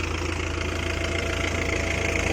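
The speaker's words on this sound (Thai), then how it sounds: "นี่มาดูรถไถครับ วิดน้ำนะสูบน้ำครับ" A 47-horsepower Kubota tractor engine runs steadily nearby with a constant low chugging rumble, driving a water pump through a very long belt.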